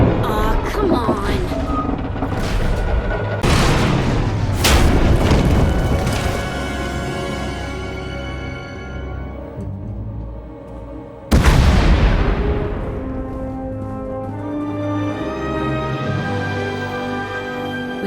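Booming explosions in the Jedi Knight video game, two heavy blasts with long rumbling decays, the second starting suddenly midway, layered over game music and effects.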